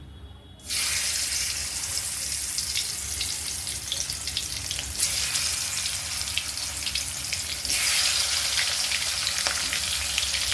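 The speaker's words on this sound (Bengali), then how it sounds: "এবার আমি কড়াইতে ঝটপট তেল দিয়ে মাছগুলো ভেজে নেব" Pieces of hilsa fish fry in hot oil in a wok, a steady loud sizzle that jumps in after a quiet start and crackles continuously, briefly swelling louder as more fish goes in.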